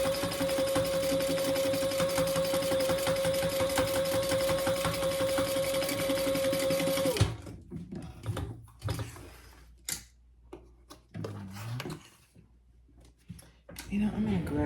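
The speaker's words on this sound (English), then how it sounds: "you're going to sew those on at the seam allowance in the pattern" A sewing machine stitching the seams of a clutch wallet, a fast steady mechanical whir with a sustained hum running for about seven seconds, followed by quiet handling noises and rustling under a voice.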